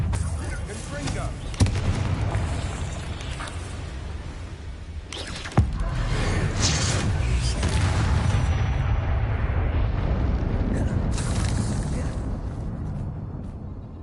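Confringo fire spell blasts in Hogwarts Legacy on PS5, with two sharp explosive bangs over a loud, continuous rumbling roar of fire and action noise, a voice speaking over it.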